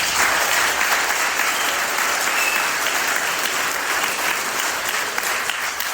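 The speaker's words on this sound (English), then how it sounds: "Can we give God a round of applause for that?" A room full of audience members at an Alcoholics Anonymous group meeting applauds, a dense, even wash of clapping that holds steady and loud for several seconds with no voices over it.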